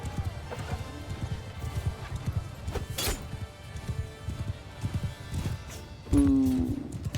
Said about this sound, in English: Oh, there's a horse right there.